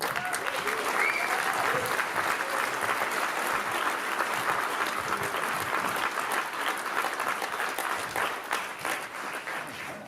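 Audience applause for the cast of a war film during a documentary Q&A event, sustained dense clapping from a sizeable crowd that fills the space steadily, with faint voices and cheers mixed in and tapering slightly at the end.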